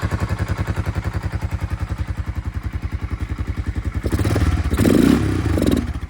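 A Honda FourTrax ATV engine with an exhaust leak idles in a steady, rapid chuffing putter that holds even for about four seconds, then turns rougher and louder with clattering scrapes and thumps near the end.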